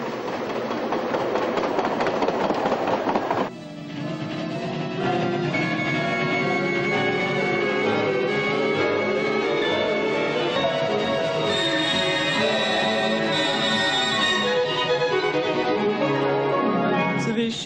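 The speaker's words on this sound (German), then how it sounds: "Zwischen Salzburg und Bad Ischl pfeift die liebe kleine Eisenbahn." Ischlerbahn narrow-gauge train on the Salzkammergut line between Salzburg and Bad Ischl, a steady rolling rumble and clatter of the wagons, sustained and fairly close, with a shift in tone partway through and music-like tonal layers over the running noise.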